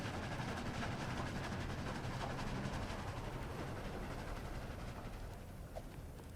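A steady, continuous rumble of a train rolling along rails in the ROBLOX game Dead Rails, dense low-end noise throughout with no voices, fading slightly near the end.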